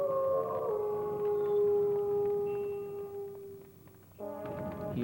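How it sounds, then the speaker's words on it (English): Hungry wolves drawn to a campfire at night howl in long sustained wavering tones, several voices overlapping and then breaking off, with a fresh cluster of howls near the end. "Soon the air was pierced in every direction by their howls."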